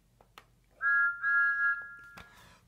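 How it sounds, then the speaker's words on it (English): A toy train whistle blows loud and shrill in two sustained blasts, the second held longer, with faint clicks around it. "So Thomas blew his whistle as loud as he could to the signalman."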